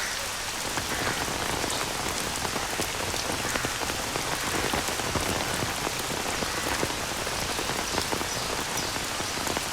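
Heavy rain pours steadily on surfaces near a temple pond, a dense, even hiss of drops that lasts throughout with no voices.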